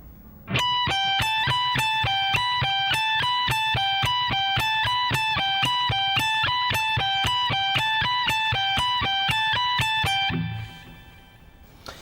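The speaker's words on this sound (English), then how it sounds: "We're palm muting all the strings pretty much that we can" Rapid, evenly spaced palm-muted electric guitar picking repeats a steady pattern for about ten seconds, then stops, played alone and fairly loud.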